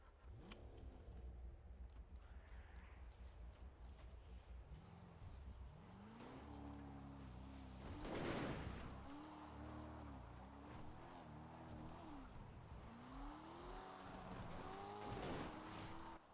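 A car drives in a video game, its engine note rising and falling in repeated revving sweeps with a brief louder burst midway, steady and fairly close throughout with no talk.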